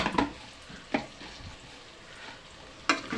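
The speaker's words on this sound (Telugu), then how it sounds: "ఒక 2 టమాటాలు కట్ చేస్తాం కదా, టమాటాలు వేసేసి" Chopped tomatoes sizzle in a pan under a soft steady fry, with a few sharp stirring knocks at the start, the middle and the end.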